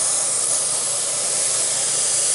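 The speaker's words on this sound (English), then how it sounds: "Let's spray some paint." Airbrush from a Timbertech combo kit spraying paint through a stencil, a loud, steady, close airy hiss that holds without a break, no talking.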